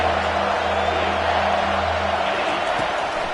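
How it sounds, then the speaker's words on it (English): Stadium crowd noise rising behind the defense on third down in an NCAA college football video game, a steady loud roar of cheering with a low hum, continuous throughout. "Decibels rising as the crowd gets behind this defense on 3rd down."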